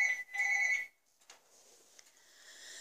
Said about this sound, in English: Excuse me a minute. The phone's going.